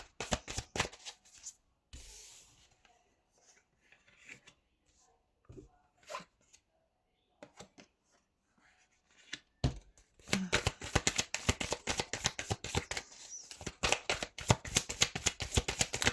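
Tarot cards shuffled and drawn at close range, crisp riffling flutters and slaps in bursts, sparse and quiet in the middle, then a long dense run of rapid shuffling toward the end.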